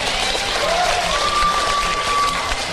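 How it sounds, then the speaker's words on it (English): A studio audience at a faith podcast recording claps in steady applause, a close, even patter of many hands holding at moderate loudness with a faint tone running underneath. "Round of applause to everyone"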